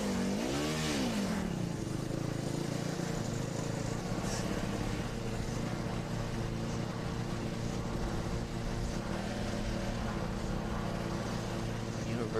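A Formula SAE race car on an autocross course revs through a rising and falling engine sweep up close, then drones on as a steady, buzzing engine drone further off with faint background noise.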